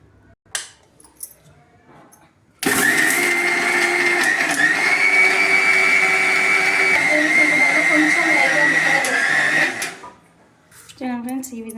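A mixer grinder grinds sesame seeds into powder for sesame laddu: a loud, steady, high motor whine runs for about seven seconds, then cuts off. Brief knocks come before it and a voice speaks after.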